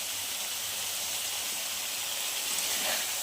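Chicken sizzles steadily in a hot pan while being sautéed for chicken chana masala, a soft continuous frying hiss with no other sounds.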